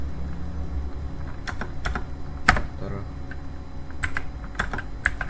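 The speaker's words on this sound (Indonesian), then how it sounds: "Terusnya di sini kita ketik switch" Scattered keystrokes on a computer keyboard, sounding as a few sharp, close clicks spread irregularly over several seconds against a low background hum.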